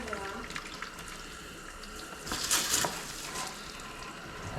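Water running through household plumbing lines at a homestead on a cold day, a steady faint hiss with a brief louder surge midway, as from an open tap.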